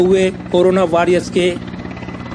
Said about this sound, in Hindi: सेना के हेलीकॉप्टर ने फूलों की वर्षा करते